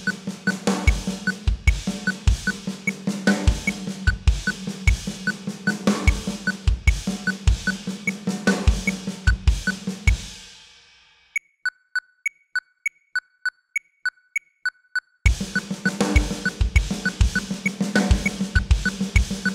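A drum pattern in 13 time mixes a six-stroke roll with doubles on the kick in dense rhythmic hits. It breaks for a few seconds of sparse high ticks, then the full groove returns.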